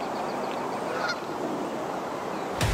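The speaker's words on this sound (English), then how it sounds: "Amongst the Canada geese there." Canada geese honk on a golf course during a women's professional tournament, a few faint calls carrying under a steady outdoor hush before one louder, closer honk at the end.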